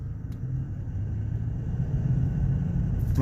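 Transmission noise from a 2011 Chevy Silverado 2500HD with a 6.0 engine and 6L90-E transmission, commanded to max line pressure: a steady low rumbling drone, constant and fairly loud, with no talk over it.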